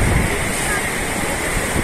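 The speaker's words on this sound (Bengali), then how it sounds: "এবার বড় ঢেউ" Large ocean waves break and wash up on the beach at Cox's Bazar, a loud, continuous roar of surf and rushing water with some wind buffeting the microphone.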